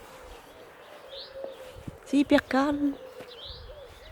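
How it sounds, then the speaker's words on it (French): Evening birdsong in a quiet garden around eight at night, a few faint chirps and a short warbling phrase near the middle, partly under a woman's brief speech. "Avec les chants des oiseaux."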